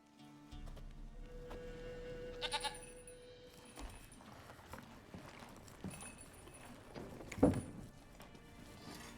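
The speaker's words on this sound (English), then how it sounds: "He's just gonna murder that goat?" A goat bleats in the video game The Witcher 3, short bleats rising over a busy game soundscape with hoof-like clops, the loudest cry near the end.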